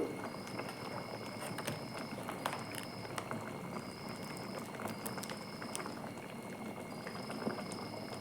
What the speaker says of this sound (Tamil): நல்லா கொதிச்சிருச்சு பாருங்கள்